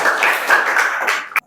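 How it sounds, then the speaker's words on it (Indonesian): A classroom audience applauds together, a dense burst of hand clapping with some voices mixed in that cuts off abruptly after a final loud clap. "Tepuk tangan dulu."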